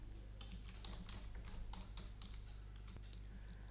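Someone types on a computer keyboard while working in BricsCAD Mechanical, producing a quick, irregular run of light key clicks over a steady low background hum, close and fairly quiet, with no talking.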